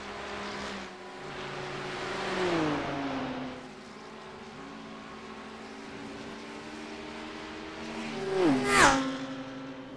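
Lamborghini Huracan race car engine at a race, heard at a distance as a faint hum with two louder passes where the pitch rises and then drops as it shifts and passes.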